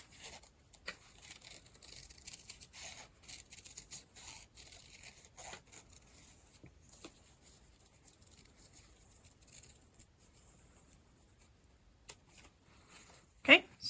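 Scissors cut out paper pieces for a Celtic charm craft in repeated short snips and rustles, close and quiet, with a sharper louder crinkle near the end.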